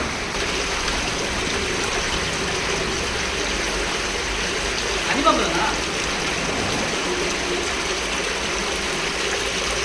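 Water rushes steadily through an old Pandya-era stone sluice channel near Srivilliputhur and Rajapalayam, a constant, fairly faint wash of flow that stays even from start to finish.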